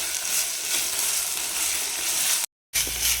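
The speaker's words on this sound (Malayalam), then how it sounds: "ഫ്ലെയിം നന്നായിട്ട് കുറച്ച് വെച്ചിട്ട് നന്നായിട്ട് ഇളക്കി കൊടുക്കാം" Ginger and green chilli frying in a pan for pickle, a dense continuous sizzle with faint stirring scrapes, close by, with a brief cut to silence near the end.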